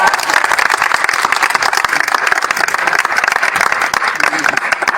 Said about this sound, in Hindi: एक बार तालियां हो जाए सबके लिए